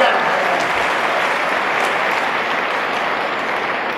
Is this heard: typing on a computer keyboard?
no